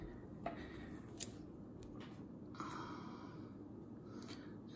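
Scissors snipping through a water transfer decal for a motorcycle gas tank, a few faint, sparse cuts close by over a steady low background hum.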